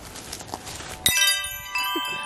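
A single bright strike sets off ringing metallic tones that linger and shimmer, followed by a few softer chimes over quiet background rustle.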